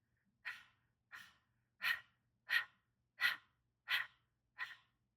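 Seven sharp, forceful nasal exhalations of Breath of Fire yoga breathing, evenly spaced about every 0.7 seconds, close and clear against near silence.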